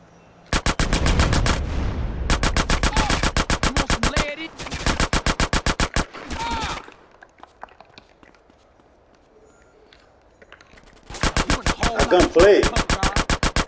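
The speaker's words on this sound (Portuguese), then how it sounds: "a troca de tiros nesse jogo é muito ruim" Rapid automatic gunfire in GTA San Andreas – The Definitive Edition, loud bursts in several long volleys separated by short pauses, with quieter scuffling and faint game sounds in between.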